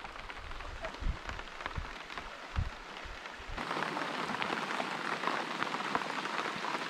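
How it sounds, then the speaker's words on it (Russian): Rain falls outdoors during a river trek across the Dyatlov Pass toward the Lozva, a steady hiss of drops on surfaces that grows denser and louder halfway through, with low thumps early on and no talking. "Пошел, как всегда, дождь."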